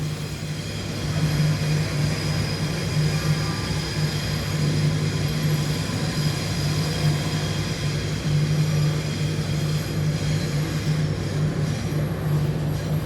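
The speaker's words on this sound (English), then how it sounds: "train line that train drivers don't want because it's a driverless train" A driverless train at Sydney Central station produces a steady, loud, low mechanical rumble and drone with a constant hum throughout, no voices.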